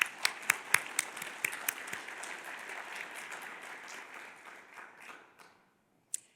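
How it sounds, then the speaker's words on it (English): An audience at a public policy forum awards presentation claps for an honoree, starting with a few sharp individual claps that swell into steady applause, then thins out and stops, with one last clap. "Let's have a round of applause for Liz."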